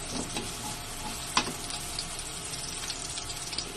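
Garlic sizzles in a hot pan for ginataang langka, a soft steady crackle and hiss with occasional stirring clinks, fairly faint and close.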